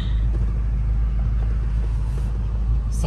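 An abandoned 1982 Chevrolet C10 truck, just fitted with a new water pump, drives along with a steady, loud low rumble from the engine and road that holds constant throughout, heard from inside the cab.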